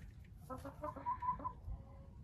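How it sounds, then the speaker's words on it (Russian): Silkie hens, one grey and one white, with a Marans rooster, clucking in a short run of several close, moderately loud calls over low background rumble. "2 шелковые курочки здесь, серенькая и беленькая, и петух маран"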